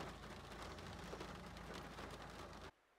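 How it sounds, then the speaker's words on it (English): Rain drumming on a parked car in Ireland, a dense steady hiss and patter heard from inside, which cuts off abruptly near the end. "as soon as we finished the walk and sat in the car, it started raining."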